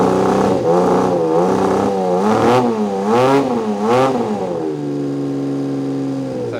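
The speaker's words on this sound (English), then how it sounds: "We'll give it a little rev" A 1979 Honda CBX 1000 six-cylinder motorcycle with an aftermarket exhaust revs several times in quick, rising blips, then settles back to a steady, smooth idle, loud and close, with no talk over it.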